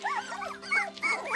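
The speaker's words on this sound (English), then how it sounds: "you can probably hear some very unhappy puppies here" Several unhappy puppies whine, yip and bark in quick, overlapping high-pitched bursts, close by and fairly loud, with no talking.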